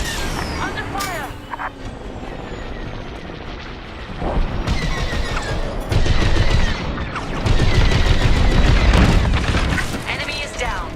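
Starfighter weapons in Star Wars: Squadrons fire in rapid bursts of blasts and explosions that swell louder toward the end, mixed with engine roar and radio voices.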